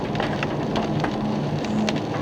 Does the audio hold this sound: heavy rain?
yes